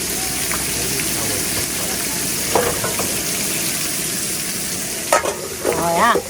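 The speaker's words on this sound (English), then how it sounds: "Hear that sizzling." Bacon frying in a pan at a lakeside campsite at Adam Lake, Manitoba, a loud continuous sizzle with crackles throughout and brief voices near the end.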